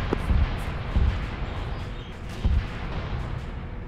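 Mortar shells exploding in a military video game, a few deep muffled booms spaced about a second apart over a constant low rumble of battlefield ambience.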